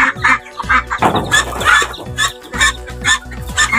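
A male Peking duck calls close by in a pen with repeated raspy, low honking notes in short bursts, spaced irregularly with brief pauses.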